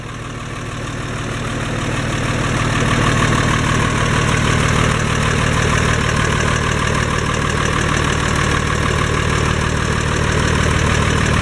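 A red Massey Ferguson 1102 tractor, the same machine as the Eicher 3105, idles close by with a steady diesel rumble that swells over the first few seconds, then holds even and loud.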